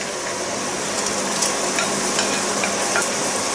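Tofu stir-fried in thickened pad thai sauce for a shrimp and glass-noodle pad thai, giving a steady, close sizzle with light scraping stirs throughout and no talking.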